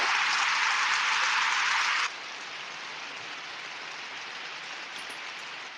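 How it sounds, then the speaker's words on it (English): A burst of crowd applause on a basketball podcast, a hissing wash of clapping that cuts off abruptly after about two seconds, leaving a quieter steady noise bed. "please go ahead and give them a round of applause"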